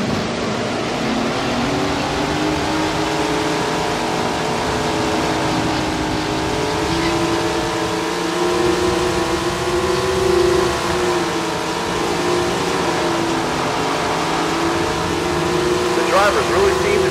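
TQ midget race car engines in the PC racing game Tony Stewart's Sprint Car Racing drone loudly and steadily as a pack, their layered pitches rising and falling together under a commentator's voice.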